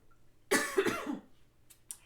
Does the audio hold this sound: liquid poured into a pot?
no